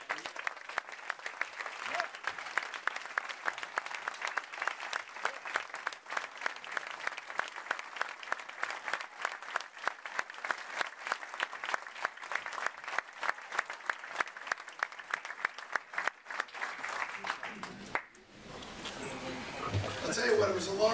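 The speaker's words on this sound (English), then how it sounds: "I think you owe a round of applause to Tom and Ben" A banquet audience at a Red Sox fantasy camp closing dinner gives sustained, dense applause lasting many seconds, then tapering off as the room settles.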